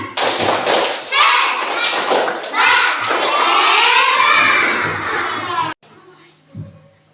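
Schoolchildren in a classroom perform the rhythmic 'tepuk hebat' clap together, a loud run of patterned claps and thumps mixed with young voices, then stopping abruptly into quieter room sound.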